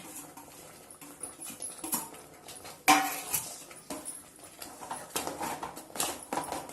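Grated apple is tipped into apple kesari in a pan and stirred, making soft irregular patters, scrapes and light clinks of a spoon against the pan, close by and fairly quiet, with one sharper knock midway.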